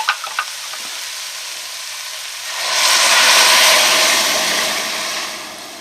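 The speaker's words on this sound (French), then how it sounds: "Et maintenant, j'ajoute mon magnifique bouillon." Broth poured into a pot of sweet potato and green lentil soup gives a steady rushing sizzle. It starts with a few small clicks, then swells louder midway and eases off slightly toward the end, with no talk.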